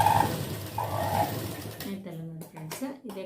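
A sewing machine stitching cups onto a blouse, running in a steady whirring burst close up, then giving way to someone speaking.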